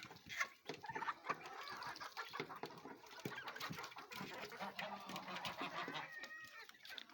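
Chickens clucking among geese and turkeys while feeding outdoors on a farm in winter, a busy, continuous mix of close bird calls and scratching with no talk.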